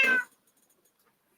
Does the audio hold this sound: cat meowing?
yes